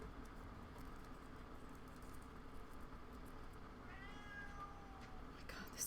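A house cat gives a short, fairly faint meow late in the moment, rising over a quiet room hum, with no talking.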